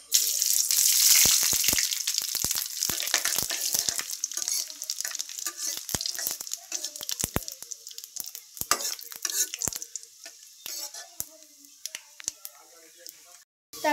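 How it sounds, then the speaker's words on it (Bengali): Five-spice and dried chilli sizzle loudly in hot oil in a wok, with a dense frying hiss at first that gradually thins out, broken by repeated sharp scrapes and clacks of stirring. "এখন 5 ফোড়ন দিয়ে দিব"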